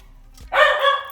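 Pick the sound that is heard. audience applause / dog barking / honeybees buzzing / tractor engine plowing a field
dog barking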